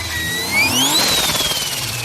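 A turbocharged car engine revs up, then lets off the throttle, and the turbo gives a fluttering chatter of air as the revs fall. The flutter sounds close and loud and carries on for about a second, with no voices.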